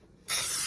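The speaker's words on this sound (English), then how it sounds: "add the baking spray." A short, close hiss of aerosol baking spray, applied to a baking pan, starts abruptly and holds steady until the end.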